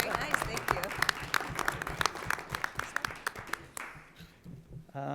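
An audience at a school superintendent interview applauds with scattered, fairly quiet hand claps, a moderate round that thins out and fades toward the end.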